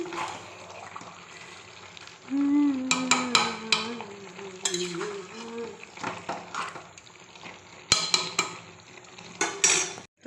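Mutton being stirred and sautéed in a cooking pan, with a steady sizzle of frying, scraping and clinking of a spoon against the pan, and a few sharper knocks of utensils on metal.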